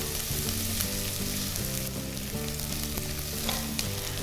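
Mignon beef sautés in a pan with garlic before arborio rice goes in for a shiitake risotto, a steady close sizzle with soft stirring, alone and uninterrupted.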